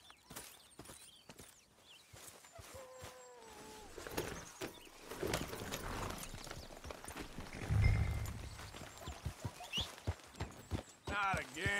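Horse hooves galloping in Red Dead Redemption 2, a rhythmic clip-clop running under game dialogue and background music, growing louder toward the middle.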